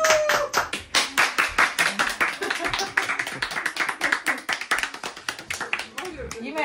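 Several hands clap in a quick, steady patter from a small group sitting close by, loud and continuous, with a few voices mixed in over the clapping.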